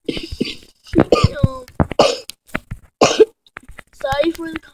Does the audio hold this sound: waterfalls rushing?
no